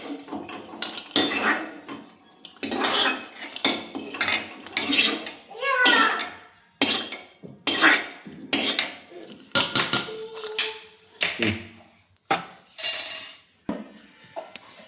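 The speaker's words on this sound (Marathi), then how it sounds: "असं मग परत ह्याला मिक्सरमधून बाहेर काढून घ्यायचे" Repeated clattering and scraping of a utensil against a metal mixer jar in short bursts, scraping out paste for eggplant curry, with some light clinks, in a kitchen setting.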